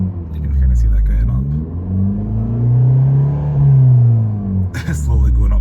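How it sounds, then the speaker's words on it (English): A 2016 Abarth 595 Competizione with its 1.4 engine revs up loudly, the exhaust swelling into a deep rising rumble that peaks and then falls away, with a voice briefly audible near the end. "The exhaust in this is pretty cool, pretty loud."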